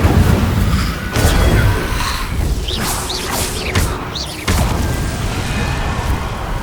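Incendio fire spells cast repeatedly in Hogwarts Legacy, booming whooshes and crashing impacts arriving in a few distinct bursts over a constant game background.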